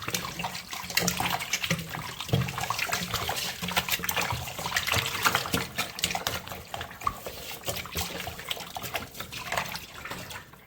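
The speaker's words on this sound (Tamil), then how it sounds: "இன்னும் 2-3 வாட்டி தண்ணியை ஊற்றி நல்லா க்ளீன் பண்ணணும்." Tap water pours and splashes into a bowl of raw chicken being rinsed in a kitchen, a continuous close gush with irregular splashing and trickling, no talk.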